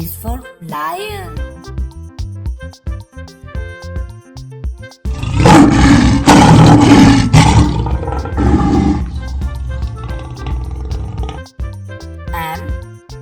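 A lion's roar rings out loud and close for several seconds in a cartoon setting, rising over bright background music with brief child-like vocal sounds before and after.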